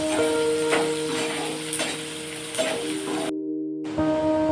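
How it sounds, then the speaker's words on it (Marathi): Finely chopped whole onion frying in a hot pan, with a close sizzle broken by stirring scrapes and a brief gap, over a steady background hum. "तो आता मी याच्यामध्ये टाकतो आता लाल पर्यंत आपल्याला परतायचं"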